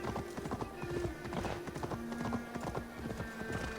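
Horse hooves gallop in a fast, steady clip-clop rhythm while riding in the video game Assassin's Creed Valhalla, with a brief whinny mixed into the continuous hoofbeats.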